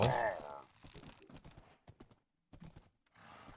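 Horse hooves clip-clop in a Minecraft survival game, a quick irregular run of hollow knocks that come in bursts with short gaps, fairly faint, with a brief whinny at the start.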